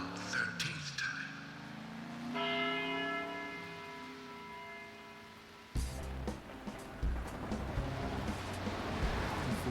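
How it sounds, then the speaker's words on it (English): A loud bell tolls with a long ringing decay in the video game Deadly Premonition, followed by an abrupt burst of noisy, roaring sound. "After the 12th time, the bell did not stop ringing. It rang a loud 13th time."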